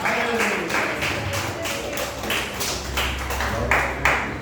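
A church congregation claps together in a steady, rhythmic beat of sharp, bright hand claps, loud and close, with little else over it.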